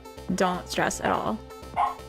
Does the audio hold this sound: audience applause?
no